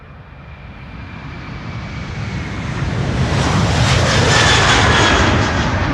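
A 19-year-old KLM Airbus A330-200 jet at Amsterdam Schiphol builds from a distant hiss into a loud, broad engine roar with a faint whine, growing steadily nearer and stronger to the end.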